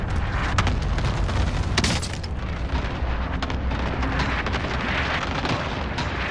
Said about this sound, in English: How'd you guys avoid the 5 airstrikes on you?